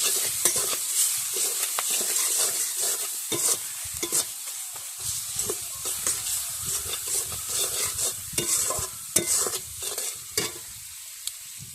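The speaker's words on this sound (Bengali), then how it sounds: "লবণ, হলুদের গুঁড়া, মরিচের গুঁড়া, রসুন বাটা, জিরে বাটা ভালো করে লাগিয়ে তেলে ভেজে নিই।" Sea pomfret coated in salt, turmeric, chili powder, garlic paste and cumin paste fries in oil, a continuous close sizzle broken by frequent clicks and scrapes of stirring.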